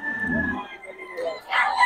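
A young stag gamecock crows once, short and nasal, fairly close. Voices chatter around it.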